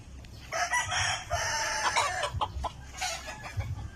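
Sweater Boston gamefowl kept in a cage crow and cluck in repeated bursts, close and fairly loud, with rooster calls overlapping steady clucking and no one speaking.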